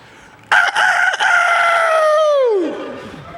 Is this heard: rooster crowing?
yes